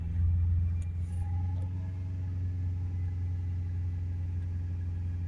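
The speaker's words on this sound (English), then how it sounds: "So now we'll hold it up on 3000 RPM." A Ford Ranger 2.0 BiTurbo engine with a diesel particulate filter restriction fault is held at 3000 RPM, producing a steady, close low drone and rumble that stays even throughout.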